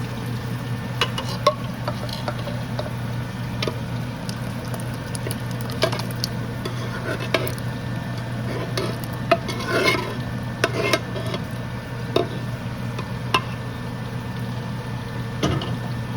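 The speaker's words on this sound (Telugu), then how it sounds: "ఇప్పుడు దీంట్లో మనం ఇందాక ఉడకబెట్టుకున్న పప్పు వేసేసుకోవాలి" Boiled dal stirred into simmering tamarind pulusu for pappu charu, a ladle scraping and knocking against the pot in irregular strokes over a low bubbling and steady kitchen hum.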